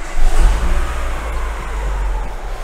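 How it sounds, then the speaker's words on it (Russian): A Renault Megane 2 engine turns over and keeps running in a workshop, with a firm start swell then a steady mid-pitched hum and slight whine, close and alone. "Сейчас мы запустим мотор и послушаем, как он работает."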